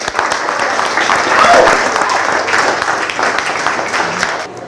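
Loud, dense applause from an audience at an art open house, a steady wash of many hands clapping close by for several seconds with a brief swell in the middle.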